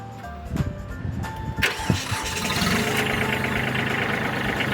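A Kubota B2140s small tractor engine cranks with a few uneven bursts, catches, then settles into a steady, loud, close idle with no talking.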